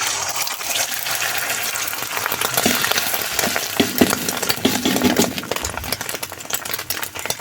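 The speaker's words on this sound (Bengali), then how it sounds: "সব কটাই ডিম ভেজে নেবো একসাথে ভেজে রান্না করে নেবো" Eggs frying in oil in a small wok-style kadai, a steady loud crackling sizzle with bursts of spatter running throughout, alone with no talk.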